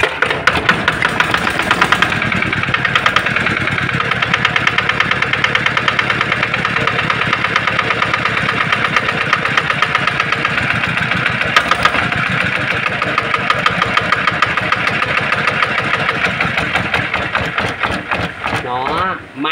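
A used Japanese NF8 diesel engine runs steadily with a loud, even knocking rhythm, close up, continuing for the whole stretch before easing off near the end.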